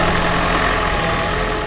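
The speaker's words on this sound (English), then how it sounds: "start the car" A car engine, started cold with a head gasket tester fitted over the coolant reservoir opening, idles as a loud, steady, close drone with a broad rumble and no talking.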